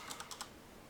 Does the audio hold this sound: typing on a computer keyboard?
yes